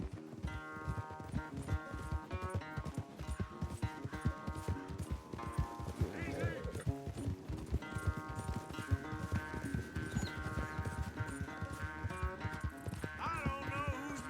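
Horses gallop in a race in the video game Red Dead Redemption 2, with fast, loud, steady hoofbeats and the occasional whinny over light background music.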